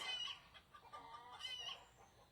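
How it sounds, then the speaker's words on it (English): A mother hen with chicks clucks agitatedly in a rapid, squawking burst, somewhat distant and fairly faint, with repeated harsh calls. "That is Ruth throwing a fit because I bet one of the turkeys has messed with her babies."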